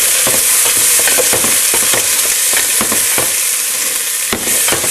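Onions frying in a hot pan for spaghetti sauce, a dense continuous sizzle broken by repeated scraping stirs and utensil knocks, close and loud.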